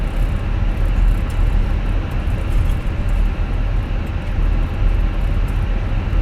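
A simulated Airbus A320 taxiing toward the runway at Lisbon, rendered as a steady, loud, broadband engine rumble and cockpit hum with heavy low-end noise that stays constant throughout.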